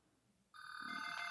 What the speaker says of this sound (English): they still have a house phone here. Always makes me laugh when it rings.